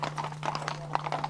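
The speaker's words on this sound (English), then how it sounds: "the hackney carriages and cabs would have been horse-drawn too" Hooves of a horse pulling a hackney carriage clip-clop over a city street in a quick, steady trot, moderately loud under a faint low hum.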